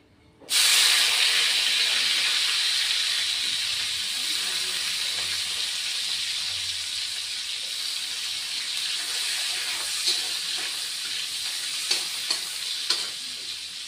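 Sliced onions drop into hot oil for a Bengali chal kumro and rohu fish dish, setting off a sudden loud, steady sizzle that holds throughout, with occasional scraping stirs and small pops near the end.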